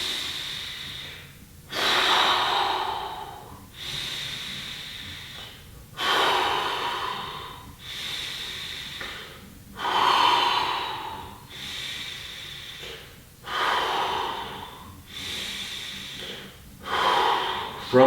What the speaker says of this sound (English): you're gonna simply take 5 really deep diaphragmatic breaths